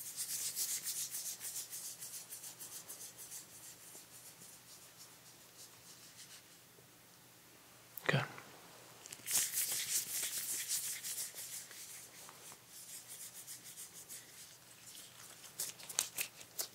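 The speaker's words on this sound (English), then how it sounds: "perform a series of tests with my gloved hands. I'm going to bring my hands in and out, in and out" Gloved hands rub together close to the ear, moving in and out, giving soft, breathy rustling that swells and fades, with a sharp crinkly burst midway, all quiet and intimate with no talking.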